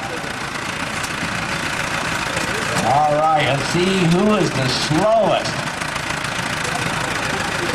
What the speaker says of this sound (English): a really slow tractor there